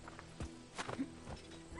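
Horse hooves clip-clop in Assassin's Creed Odyssey, a few brief uneven hoof thuds against a low background game hum with no talk.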